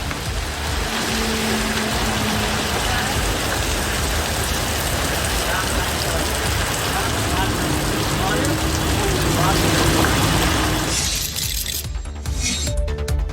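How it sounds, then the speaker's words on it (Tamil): Heavy rain pours down steadily in a dense, loud hiss while vehicles drive through the downpour on wet roads, the roar constant throughout before easing slightly near the end. "கனமழை பெய்தது. இதனால் மழையில் நனைந்தபடி வாகன ஓட்டிகள் பயணித்தனர்."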